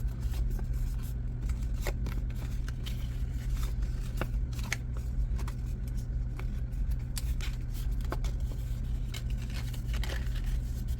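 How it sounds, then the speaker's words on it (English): Paper being folded along score marks for the front of a card: continuous close-up rustling and crinkling, with scattered crisp creasing taps and no voices. "what I do now is I make sure to fold on those score marks for the front."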